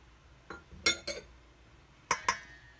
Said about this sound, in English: And whisk. Egg number 2. And whisk. Egg number 3.